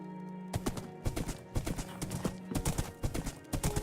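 Horse hooves clip-clop in Minecraft, a quick irregular run of crisp hollow clops, close and fairly loud, repeating steadily with no one speaking.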